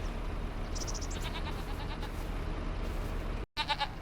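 Goat bleating in Farming Simulator 25, a short series of several clear bleats followed after a brief dropout by another bleat, all over steady game ambience and low engine-like rumble.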